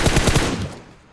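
Rapid burst of automatic gunfire sprayed in the PUBG Mobile shooter game, loud close shots fired in quick succession before trailing off.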